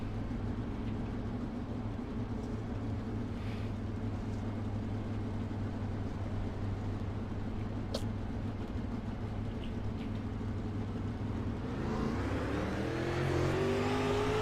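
Onboard a race car at a restart: a loud, steady engine drone holds for most of the stretch, then the pitch climbs sharply as the car accelerates near the end.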